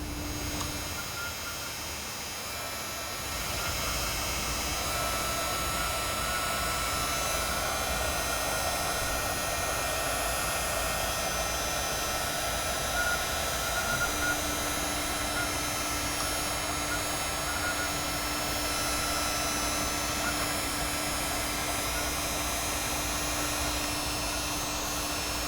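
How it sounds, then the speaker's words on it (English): Hot air gun or hair dryer melting a plastic bottle, a steady loud whooshing blower roar with a constant tone that starts a few seconds in and runs without a break. "we're going to get our hot glue, our hot air gun, or our hair dryer, and melt this a little bit"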